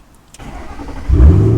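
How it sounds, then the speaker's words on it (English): A car engine cranks briefly on the key and catches, settling into a low, steady idle close by with no voices over it. "car started, car's on"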